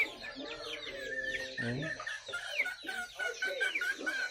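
Backyard chickens cluck and squawk close by in a busy, overlapping chorus, with a man's brief exclamation among them.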